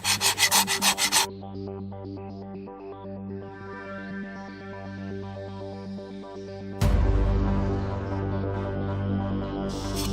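Old gasket material is scraped and rubbed off the metal mating surfaces of a transmission gearbox. Quick rasping strokes come first, then slower, squeaky rubbing, then a louder, steady scrubbing.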